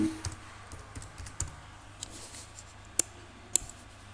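Typing on a computer keyboard: irregular soft key clicks with a couple of sharper taps, close but quiet against a faint background hum, with no speech.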